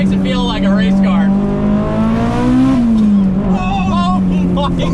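An 800-wheel-horsepower Mitsubishi Evo 8 drones loudly inside the cabin while being driven, its steady engine note rising in pitch and then settling, with people talking and laughing over it.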